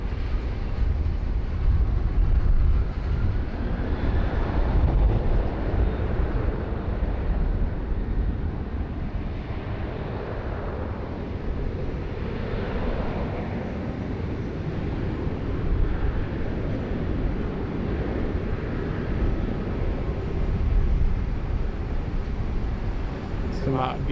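A Qatar Boeing 777-300ER in retro livery takes off from runway 16 right at Sydney Airport, a broad, sustained rumbling roar that stays fairly even throughout while someone talks over it.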